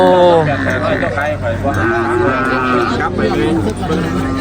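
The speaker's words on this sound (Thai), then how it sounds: "เป็นควายเลี้ยงพี่น้อง" Water buffalo low and moo at a busy Thai livestock market, calls overlapping at close range for several seconds over a constant din of crowd chatter and people talking.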